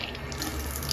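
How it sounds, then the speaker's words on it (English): Water runs steadily from a bathroom tap at a Pokhara resort room, a soft continuous rushing splash with no talking. "Looks like the water is coming out of a pipe."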